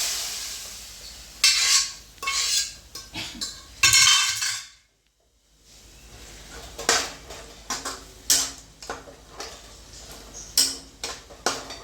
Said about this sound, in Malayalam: ഇനി ഇതിലേക്ക് നമ്മൾ വേവിച്ച് വെച്ചിരിക്കുന്ന കടല വെച്ചെടുക്കണം.